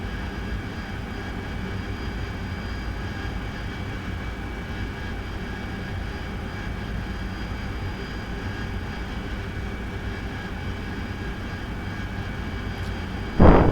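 The jet engine of an AV-8B Harrier in a flight simulator game is throttled up, giving a steady, droning whine and rumble that holds at an even level throughout, with a brief sharp noise at the very end.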